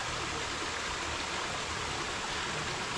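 Steady, broadband rushing of a mountain river flowing over rocks nearby, continuous and fairly even throughout.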